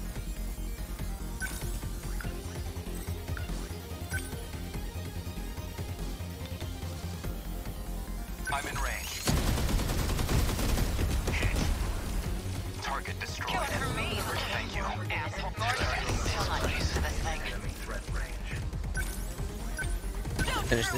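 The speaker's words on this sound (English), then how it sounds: "Long range missiles? Yeah. That's what's happening there." Long-range missiles fire in the video game 13 Sentinels: Aegis Rim, a dense burst of explosive booms and crashing impacts that swells abruptly partway through and stays loud and busy over a steady game background.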